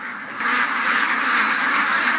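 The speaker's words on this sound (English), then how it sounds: "Come on, ducks, get out of here." Ducks quack loudly and close together in a continuous nasal chorus near a swamp, with no talk over them.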